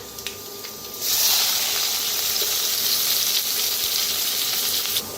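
Asafoetida, finely chopped onion and curry leaves hit hot oil for pithla, with a sudden loud, steady sizzle that bursts in after a quiet second and holds strong and close throughout.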